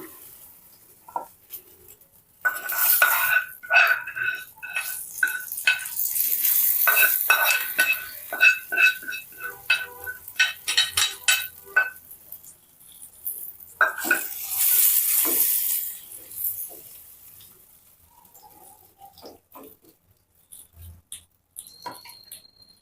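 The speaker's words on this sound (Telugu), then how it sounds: "మనం పెట్టిన తాలింపుని ఇందులో వేసేసుకోవాలి" Hot tempering (tadka) is poured into tomato paste for tomato pachadi, then stirred, producing a loud burst of crackling sizzle and a rapid series of spoon scrapes against the bowl, fading to sparse taps near the end.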